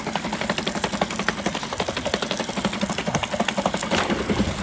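A 2006–2007 Yamaha 4hp four-stroke outboard tiller motor runs steadily up close, a fast, even mechanical chugging with rapid rhythmic ticking.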